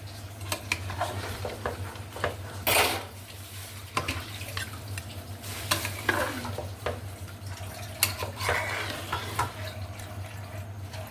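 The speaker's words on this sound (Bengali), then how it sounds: "একটু নাড়াচাড়া করে দিতে হবে নিচে যেন লেগে না ধরে" Pulao being stirred in a cooking pot with a spoon, intermittent scraping and clinks against the metal over a steady low hum, close and moderately loud, with no voices.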